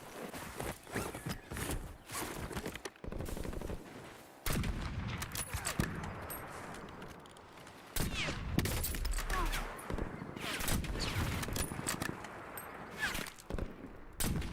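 Gunfire in the video game Call of Duty Warzone, set in Verdansk: repeated bursts and scattered single shots crackle back and forth with footsteps and clatter, loud and busy throughout.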